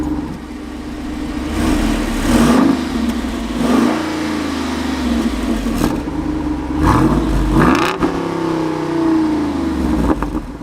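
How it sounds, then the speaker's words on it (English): The exhaust of a 2024 Jeep Wrangler Rubicon 392 V8 rises in several loud revs from a rumbling idle, each throttle blip swelling and falling back, heard close with no talking. "let's take a listen to that exhaust one more time"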